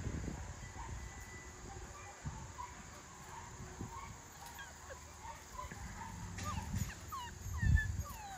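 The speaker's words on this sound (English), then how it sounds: "They listen to the dogs in the kennel." Dogs in a kennel bark and yelp at a distance, faint bursts scattered over steady outdoor background with a louder thump near the end.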